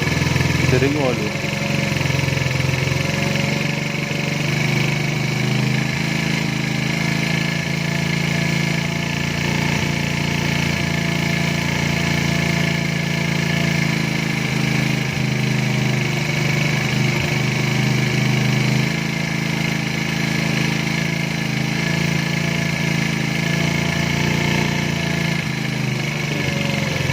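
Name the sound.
110cc motorcycle engine idling during carburetor adjustment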